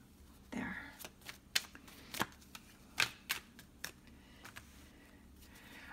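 A tarot deck is shuffled by hand with a series of crisp, close card flicks and snaps at an uneven pace. A faint whispery voice sits under them.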